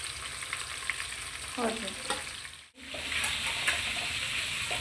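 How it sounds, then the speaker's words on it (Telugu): Oil sizzles steadily in a pan as food fries for a biryani meal, a close continuous hiss with stirring scrapes and a brief dip midway, and a single short spoken word. "అందులో ఉన్న రెండే పడతాయి కాబట్టి రెండు ఫ్రై చేస్తాను"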